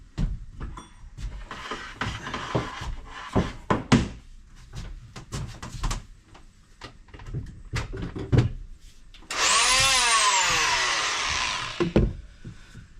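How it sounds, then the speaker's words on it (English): Handling clunks and knocks aboard a boat come first, then a power trimmer bursts into a loud, high whine for a couple of seconds, rising and settling before cutting off. "so I'm gonna get me trimmer"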